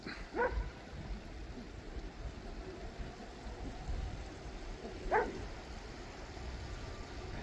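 A dog guarding a flock of turkeys on a small farm lets out two short, sharp barks a few seconds apart, fairly distant over a steady outdoor background hiss.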